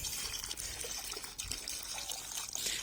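Water rinses out a limescale-laden water heater tank, splashing and trickling unevenly at close range for a few seconds, with no speech.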